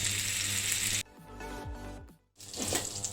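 Butter sizzles loudly in a pan for about a second, then drops to a quieter hiss with low knocks and a brief near-silence before the sizzle swells again.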